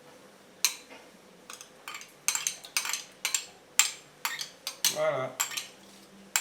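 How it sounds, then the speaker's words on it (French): A metal spoon scrapes cream out of a bowl while making a creamy cake: a string of clinking, scraping strokes against the bowl, close and uneven in rhythm, with a brief spoken word partway through. "Tu peux prendre la cuillère aussi pour racler"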